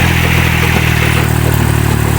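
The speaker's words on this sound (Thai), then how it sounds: "รถไถเก่านอกญี่ปุ่น" An old Kubota L2002 tractor engine chugs loudly and continuously with a rough mechanical clatter, close by and unchanging throughout.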